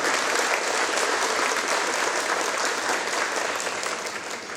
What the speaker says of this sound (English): I think we owe a round of applause to not just Colonel Bailey, but the military family that Colonel Bailey has.